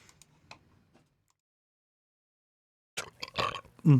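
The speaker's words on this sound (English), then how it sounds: "That sounded gross. Even for burp standards." A gross-sounding burp, short and fairly close, after faint scattered clicks and a long silence, ending in a louder low guttural burst.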